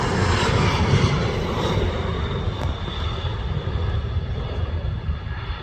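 A fixed-wing airplane coming in to land passes close by with a loud, continuous engine roar that holds steady and eases slightly toward the end, with no talking.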